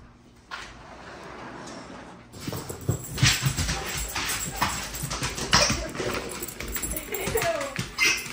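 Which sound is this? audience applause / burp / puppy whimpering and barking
puppy whimpering and barking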